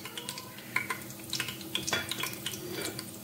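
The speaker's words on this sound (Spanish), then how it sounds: "ahora se está dorando el ajo" Garlic frying and browning in a pan for Moroccan berkoukes, a soft steady sizzle close by with light scraping and clinks of a utensil stirring against the pan.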